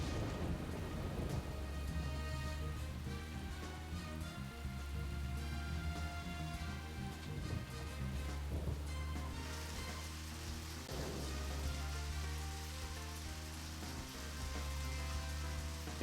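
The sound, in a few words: rain in video game Deadly Premonition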